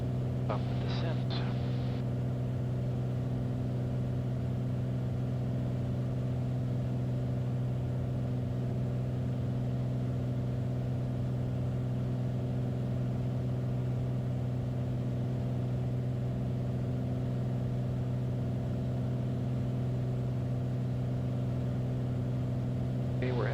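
A Bonanza light aircraft's piston engine heard from the cockpit with power added on approach: a steady, droning hum with strong harmonics, constant and unbroken throughout, fairly subdued.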